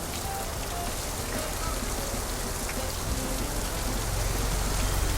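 Steady rain falls at an Indonesian snack market, a dense, even hiss of drops on surfaces that stays constant and fairly loud throughout, with no distinct voices.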